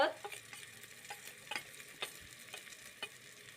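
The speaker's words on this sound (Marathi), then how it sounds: "आता मसाले सगळे मिक्स करून परतून घ्यायचे ते" Spices for egg biryani stir-fried in a pan, giving a faint steady sizzle broken by regular soft scraping strokes of the spoon about every half second.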